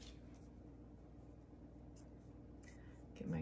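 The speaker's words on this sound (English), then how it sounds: "So you just make a little line like this for cutting." Quick pencil or marker strokes drawing short guide lines on cardboard for a loom craft, faint scratchy scrapes heard close up in a quiet room, a few brief strokes.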